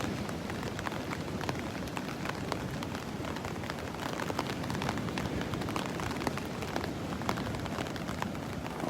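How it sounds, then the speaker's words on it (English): Rain patters steadily on a beach at Delnor-Wiggins, a faint, even hiss of dense drops with scattered louder taps and no voices throughout. "By noon, the rain is supposedly going to let up."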